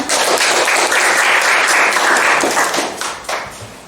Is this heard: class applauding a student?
yes